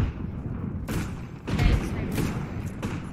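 Frag grenade blast in the shooter game Apex Legends, several heavy thumps and bursts in close succession, loud and near, with gunfire-like cracks mixed in.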